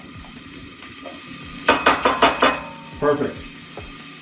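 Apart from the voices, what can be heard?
mirepoix added to soup pan, stirring and sizzling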